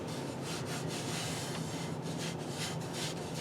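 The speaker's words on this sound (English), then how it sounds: "I'm just going to go through and scrape some more and then sand it up." Steady dry rubbing and rasping as a box elder bowl is scraped and sanded, continuous with faint rhythmic strokes and no voices.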